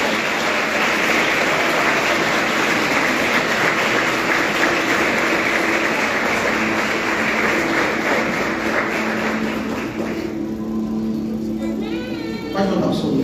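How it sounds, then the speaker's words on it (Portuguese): Congregation applause rings out in a church service, steady for about ten seconds before thinning out, with faint voices and a tone beneath it. "Se você puder aplaudir o Senhor pela vida dele."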